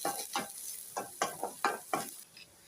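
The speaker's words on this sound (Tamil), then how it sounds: "நறுக்கி வச்ச பொடி பொடியாக நறுக்கி வச்ச ஒரு பெரிய வெங்காயம் எல்லாத்தையுமே நல்லா ஃப்ரை பண்ணிக்கலாம்" Finely chopped onion is stirred in hot oil for a cabbage manchurian, giving a soft sizzle broken by about seven quick scraping stirs of a spoon against the pan, close and fairly quiet.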